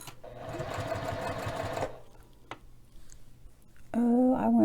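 A sewing machine stitches a fabric bag in a rapid, close mechanical whir for about two seconds, then stops into near quiet before a voice begins speaking.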